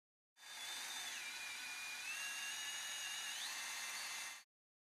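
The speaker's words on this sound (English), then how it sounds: "The locking screw is initially inserted under power," Surgical power tool driving a locking bone screw into a femoral neck fracture, a steady high-pitched whine running about four seconds with a slight pitch dip midway, alone and close.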